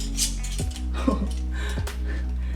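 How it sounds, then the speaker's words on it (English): Coffee grinder mechanism being handled and dosed with coffee, close clicking and ratcheting with a couple of creaky turns over a steady low hum. "So now we need to dose our coffee in to our grinder."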